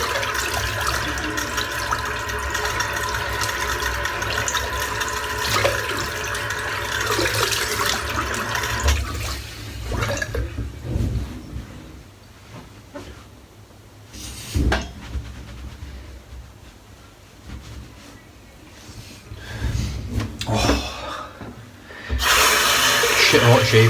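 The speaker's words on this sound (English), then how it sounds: "Just rinsing this brush out" Tap water runs steadily into a sink as a shaving brush is rinsed under it, the flow continuous for several seconds before breaking into intermittent splashes and trickles, with someone speaking over parts of it.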